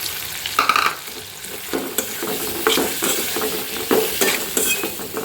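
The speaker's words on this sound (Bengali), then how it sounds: "আমি তো এখন মুরগির ফ্রাই ভাজা শুরু করে দিছি" Chicken pieces fry in a pan for fried rice, a bright continuous sizzle broken by repeated scraping stirs and spatula knocks against the metal, close and fairly loud with no voices.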